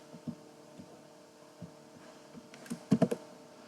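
A password being typed on a computer keyboard, heard as sparse, soft key taps early on, then a quick cluster of louder clacks near the end over a faint steady hum.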